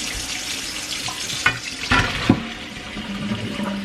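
Cold water running from a kitchen tap into a cooking pot, a steady rushing hiss with a few splashes and clinks, close by and alone.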